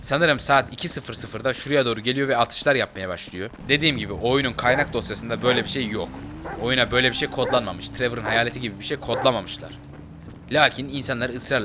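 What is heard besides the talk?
No distinct noise like a dog, phone or traffic.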